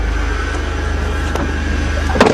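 A Dodge car engine idles steadily and close by on a farm, a low continuous rumble with a faint whine and a brief clunk near the end.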